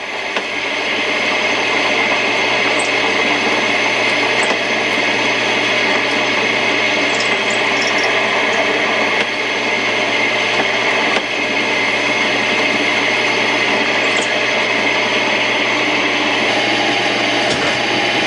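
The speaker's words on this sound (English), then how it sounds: "Now just countersink in all the holes evenly, make sure they're nice and smooth." A 30-degree countersink bit running steadily in the holes of a homemade adjustable PSP handle, a loud, continuous whirring drone that holds without a break for the whole stretch.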